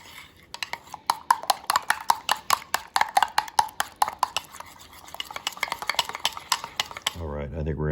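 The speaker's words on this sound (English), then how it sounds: "Take about a minute or so to stir it up." A utensil stirs batter for a Brazilian tapioca crepe in a bowl, a quick run of close, rhythmic clicks and scrapes that ends abruptly.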